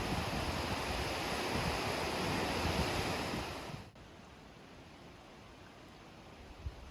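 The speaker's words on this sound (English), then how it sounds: "just to the right of Bridal Veil Falls, there's two more waterfalls" Waterfalls beside Bridal Veil Falls in Alaska roar as a loud, steady broadband rush, then the sound abruptly drops to a softer, more distant wash of falling water for the last few seconds.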